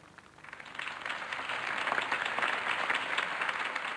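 Applause from a crowd at a mayoral campaign speech in a Batman game, swelling from a light patter into sustained, dense clapping that holds steady to the end.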